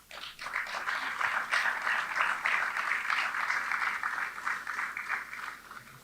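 An audience at a thrift club's annual academic awards ceremony claps for the awardees. The sustained applause swells quickly and holds at a fairly even level, then tapers slightly toward the end.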